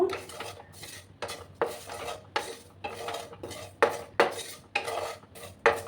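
A torn bay leaf with two spoons of whole spices is stirred in a dry pan, a spoon scraping and clinking against the metal in repeated strokes about every half second, close and clear with no talking.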